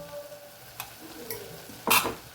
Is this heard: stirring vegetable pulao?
yes